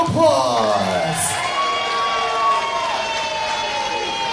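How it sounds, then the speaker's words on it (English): Sold-out independent wrestling crowd at an SKPW event cheering and whooping in a steady, loud roar, with scattered shouts rising over the mass of voices. "Give yourselves a round of applause."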